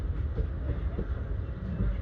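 A passenger train, a Santragachi–Secunderabad summer special, enters Krishna Canal junction on a green signal, giving a steady low rumble of rolling wheels and car noise heard from on board, with no voices.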